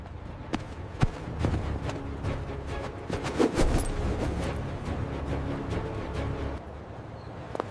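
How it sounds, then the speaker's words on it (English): A person running in a hurry toward a bus stop, quick footfalls pattering steadily at close range, with a few sharper knocks scattered through and no talking. "I ran as fast as I could."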